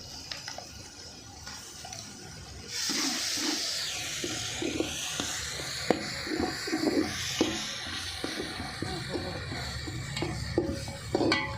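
Ginger garlic paste frying with onions and tomatoes in a pot for chicken or beef biryani, a soft sizzle under scraping and stirring of a spoon against the pan, close and moderately quiet.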